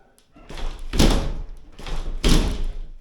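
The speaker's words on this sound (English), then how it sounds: "I've been meaning to get around to doing something about this door, but it sticks" A loose, sticking shower door is worked open twice, each pull a grinding scrape that swells into a heavy thump against the frame, loud and close with no one speaking.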